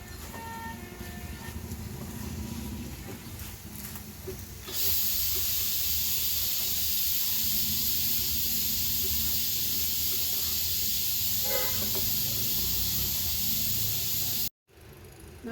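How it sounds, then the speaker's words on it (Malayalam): A pressure cooker vents steam in a steady, loud hiss that starts a few seconds in and holds without a break until a short cutoff near the end, during home cooking of a chicken roast. "ഇവിടെ ഒരു കുക്കറിൻ്റെ വിസിൽ കേട്ട് ഇപ്പോഴും വിസിൽ കേൾക്കണം"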